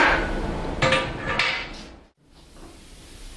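A treadle hammer draws out hot metal with a few close, heavy thuds and metallic clanks in quick succession, then a brief pause and a softer rumble.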